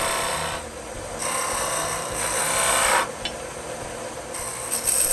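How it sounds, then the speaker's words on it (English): A parting tool scrapes wood spinning on a Shopsmith lathe, making a close rasping hiss that comes in several pulses over the steady motor drone, with brief lulls between passes and no voices. "So with the parting tool, I'm just marking kind of the center of my cove and using pretty much a scraping technique here"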